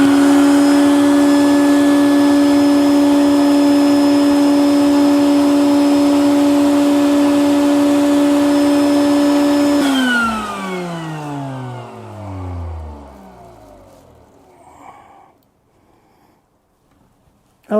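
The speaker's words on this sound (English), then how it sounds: "I'm going to take my screwdriver now and just poke around in here while I vacuum at the same time." A vacuum cleaner sucks soot out of a wood stove pipe, a loud steady whine for about ten seconds before the motor switches off and spins down in a falling tone, leaving faint clattering.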